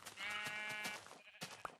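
Sheep bleat in a game, a wavering nasal cry that carries for about a second, followed by softer clicks and game noises.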